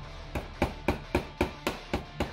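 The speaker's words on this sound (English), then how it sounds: "give it a few taps with the hammer until the piece is separated from the sprue" A small hobby hammer taps parts off a wooden sprue for a diecast diorama bridge model, giving eight sharp, evenly spaced knocks in quick steady rhythm, close and alone.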